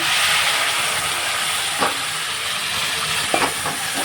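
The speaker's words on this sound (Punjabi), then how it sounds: "ਦੇਖੋ ਮਸਾਲਾ ਵਧੀਆ ਭੁੱਜੀ ਜਾਂਦਾ ਆਪਣਾ ਪਿਆਜ਼ ਤੇ ਲਸਣ ਦਾ ਪੇਸਟ ਆ" An onion and garlic paste masala for pumpkin sabzi fries in a pan with a loud, continuous hiss and sizzle, marked by a couple of soft clicks near the end; no talking.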